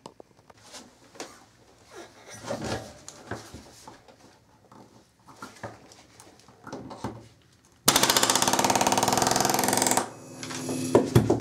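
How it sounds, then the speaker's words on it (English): A palm nailer drives nails into framing while closing up a bathroom doorway, a loud, rapid, continuous hammering burst of about two seconds, then another burst after a short pause, following quieter knocks and handling noise. "Best thing with the palm nailer, like you noticed earlier, one of them went in crooked, is to, once you get it started, just keep going"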